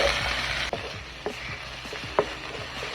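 Garlic, green onion and white onion fry in a pan with a steady broadband sizzle, broken by a few soft clicks and taps of a utensil against the pan; no one speaks.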